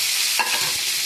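Paneer cubes fry lightly in a pan with a steady sizzle, and a spatula scrapes across the surface once or twice as the pieces are turned, with no voices.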